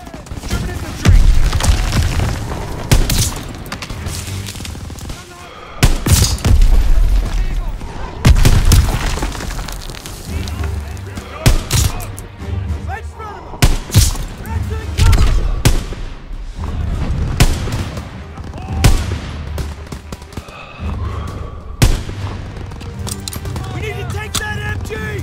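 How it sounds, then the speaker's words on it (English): Battlefield combat in the Call of Duty WWII game: repeated bursts of gunfire and heavy explosive booms scattered across the whole stretch, loud and irregular, with game voices talking in between. "Gunfire! We must be near our guys."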